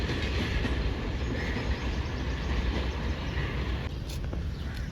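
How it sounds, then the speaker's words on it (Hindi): Millat Express running down past Mali railway station in Pakistan, a loud, close, continuous rumble of wagons with rhythmic clickety-clack of wheels on rail joints and a faint squeal near the end. "आज की हमारी एशियन डाउन मिलत एक्सप्रेस GMU 30R 82 सिफर 7 रूट पर था और मली रेलवे स्टेशन से ये गुजर चुकी है।"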